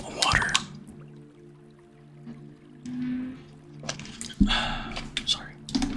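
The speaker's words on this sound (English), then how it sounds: "Drink some water." Close-miked sips and swallows of water in an ASMR setting, with wet squishy mouth sounds and drips in short bursts separated by near silence.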